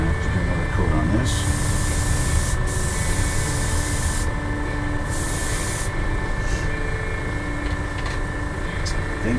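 Airbrush or spray can laying another coat of paint onto a 1/48 scale F-15C model, a steady close hiss running throughout with brief bursts and breaks at the top end.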